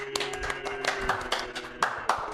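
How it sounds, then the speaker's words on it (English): Short burst of applause as a sound effect, a few seconds of scattered hand claps with sharper individual slaps standing out, close and fairly loud, with no speech over it. "That, unfortunately, Harold, that cheering didn't last quite as long."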